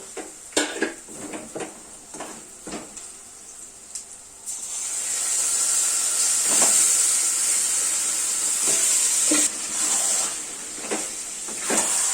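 Yogurt and salt marinated chicken hits a hot pan for chicken maharani, bursting into a loud, steady sizzle that hisses for several seconds after a few clanks of a pot and utensil.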